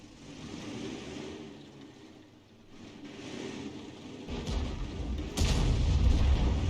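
SU-14-2 self-propelled artillery firing in World of Tanks, a heavy low boom swelling late in the clip above a rumbling battlefield background, moderately loud.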